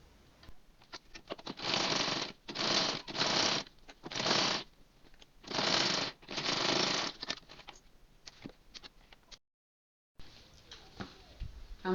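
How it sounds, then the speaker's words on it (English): A sewing machine stitches a bag's top strap onto the main panel in several loud, close bursts of rapid whirring, separated by short pauses, then comes a gap and softer handling noises. "I'm done with sewing the top strap with the main panel."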